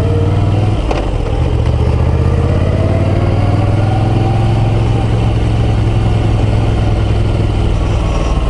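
A Moto Guzzi V9 Roamer motorcycle pulls away in second gear with a steady, loud engine drone and a low rising tone as it gains speed, heavy wind rush running throughout.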